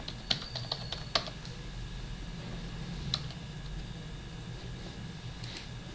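Soft computer keyboard typing into Google Chrome, a few quick clustered keystrokes near the start and another brief burst later, faint and close over a steady low hum of room noise.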